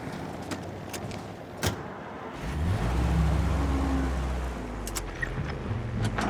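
A car engine in the video game Mafia: Definitive Edition, with a few sharp door or mechanical clicks, then the motor starting and holding a low steady rumble at close range, no talk over it.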